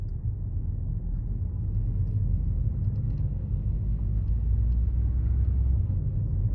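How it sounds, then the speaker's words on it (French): A 2011 Volkswagen Scirocco 2.0 TDI Stage 1 with an automatic gearbox pulling away from rest, its diesel giving a steady deep rumble heard from inside the cabin, constant and moderately loud with no voices. "Déjà on lâche le frein, la voiture roule."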